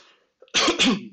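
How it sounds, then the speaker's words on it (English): A single person coughs twice in quick succession, close to the microphone, after a brief faint sound. "Cough cough."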